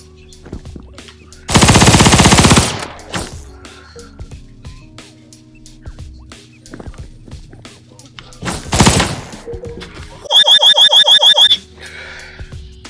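Gunfire in a first-person shooter video game: loud sustained bursts of automatic fire broken by scattered single shots and quieter game sounds.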